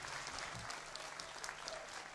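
A concert audience at a duo's 2019 20th-anniversary stage show claps together, a soft, even patter of applause that sounds distant and continuous for a couple of seconds.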